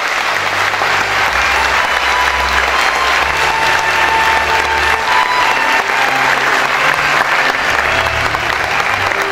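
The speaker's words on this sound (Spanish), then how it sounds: "el aplauso inicial es para todos los jóvenes de Bragado" Loud, sustained applause from an audience welcoming young people at a ceremony in Bragado, a continuous roar of clapping with a low hum of a room sound system beneath it.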